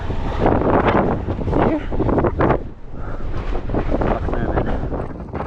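Strong gusting wind on top of Kennedy Peak, Wyoming, buffets the microphone continuously, a loud, rough roar that surges and eases in waves.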